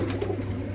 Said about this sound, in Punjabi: ਅਤੇ ਗਾੜੇ ਰੱਤੇ ਵੀ ਕਬੂਤਰ ਹੈਗੇ ਨੇ ਬਾਈ ਹੁਣਾਂ ਦੇ ਕੋਲ